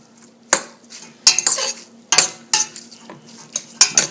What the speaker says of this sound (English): So once I do this, I stir it very well.